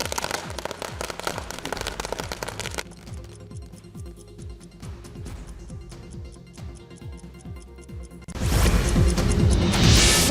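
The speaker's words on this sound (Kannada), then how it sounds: "ಪಟಾಕಿ ಸಿಡಿಸಿ ಸಂಭ್ರಮಿಸಿದ್ದಾರೆ" Firecrackers set off at a street political celebration in Belagavi, India: a rapid string of crackling pops and bangs, thinning to scattered snaps, then a sudden loud roaring burst at the end.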